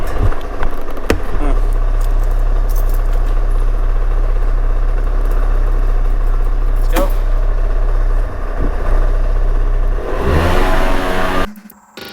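A small motor engine hums steadily while riding, with a brief rising rev near the end before it cuts off.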